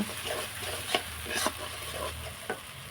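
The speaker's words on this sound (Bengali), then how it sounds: "টমেটো বাটা দিয়ে ভালো করে মশলাগুলো আমি মিশিয়ে নেব" Spices being stirred with tomato paste in a frying pan for a Bengali spicy tangra fish curry, a steady close sizzle broken by a few sharp scraping knocks of the spoon against the pan.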